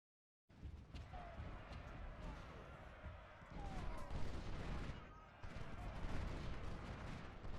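Musket and artillery fire crackle in a Civil War strategy game, dense overlapping volleys and booms rolling on continuously at a moderate distance, growing heavier midway with a short lull before resuming.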